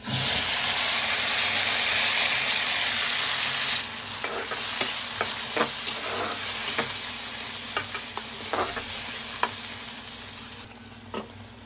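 A ground spice paste for mushroom curry sizzles and fries in a hot pan, loud at first, then quieter with scattered crackles and occasional stirring clicks.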